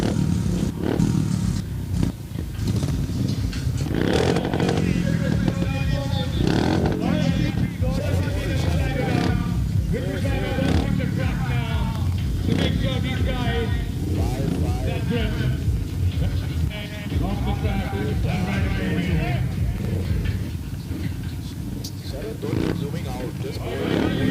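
Dirt track race motorcycles started up at the starting line, engines revving and droning loudly and continuously together, with a crowd-like wash and announcer talk layered over the engine noise.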